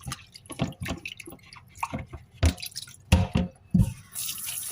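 Herbal leaves for a cough remedy are rinsed under running water in a sink, with close splashing and dripping that come in uneven bursts and no talking.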